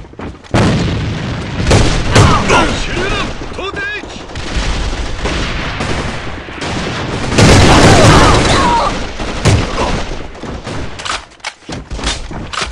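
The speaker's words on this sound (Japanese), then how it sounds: "味方が撃たれた手榴弾投擲" Loud combat in the AVA first-person shooter: a grenade throw and rapid gunfire with booming blasts and rattling bursts filling most of the stretch, while game voices call out over the fighting.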